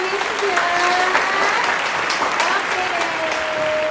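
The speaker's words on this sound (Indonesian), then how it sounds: "Yang bersukacita kita kasih tepuk tangan dulu buat Tuhan Yesus ya." Children and adults clap for Jesus at a kids' church service, giving a lively, continuous round of close clapping with voices mixed in.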